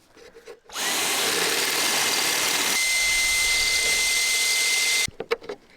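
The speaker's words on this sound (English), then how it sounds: "This is our system for drilling holes in metal" A power drill bores a hole in the metal body of a van, running loud and steady for about four seconds with a shift in pitch midway, then stopping.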